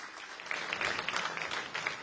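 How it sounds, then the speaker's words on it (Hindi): A crowd at an Indian TV election-forum event gives a short burst of applause, steady and moderately loud but somewhat distant, with no talking over it. "एगो जोरदार ताली होके के चाहिए।"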